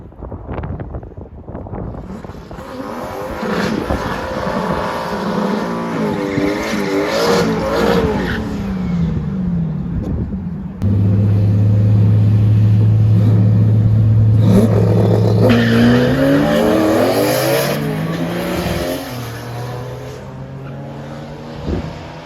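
A turbocharged New Edge Ford Mustang makes a drag-racing pass at the track: a loud engine winds up through rising revs, drops briefly and climbs again, then fades toward the end, with no speech.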